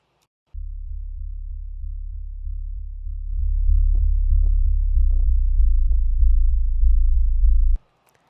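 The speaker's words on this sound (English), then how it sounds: "really like heavy, thick sub type sound" Heavy, thick sub-bass tone from a rendered soft synth, sustained for about seven seconds as a steady low drone that swells louder midway, with a few faint clicks on top before it cuts off abruptly.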